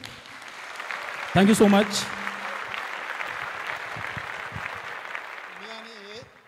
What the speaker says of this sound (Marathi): जोरदार टाळ्या मित्रांनो